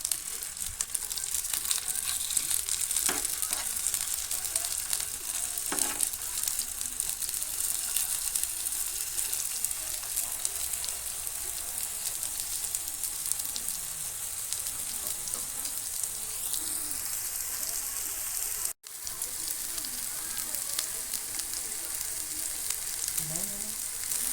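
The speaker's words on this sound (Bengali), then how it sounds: "একদিকটা হালকা লাল লাল ভাজা হয়েছে" Chicken shami kebabs frying in a pan, a continuous moderate sizzle with faint spatters, light clinks and brief scraping as the patties are turned, plus a momentary break near the end.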